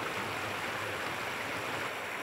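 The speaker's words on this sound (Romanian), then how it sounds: "Un fir de apă, izvorât în munții Cindrelului, se preface într-un râu repede," A fast mountain river rushes down from the Cindrel Mountains, a steady, dense roar of flowing water close by with no voices.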